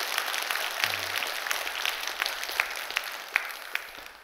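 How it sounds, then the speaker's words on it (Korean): A church congregation at a Sunday service in Gunsan gives a round of applause for a soloist, moderate and even clapping that carries on steadily with a few sharper individual claps standing out. "박수 한번 해주시죠"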